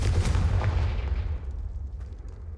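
A Confringo fire spell cast in Hogwarts Legacy bursts with a loud, booming explosion that rolls off into a fading rumble over about two seconds, with no talking.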